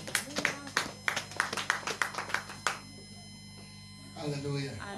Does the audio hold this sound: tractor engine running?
no